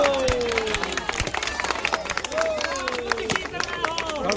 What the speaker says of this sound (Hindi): ताली बजाई भाई